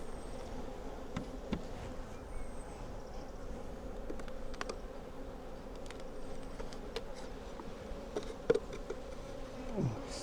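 A steady, soft drone of honey bees hums around an open hive during an inspection, continuous and fairly close, with occasional light knocks and rustles of hive equipment and no talking.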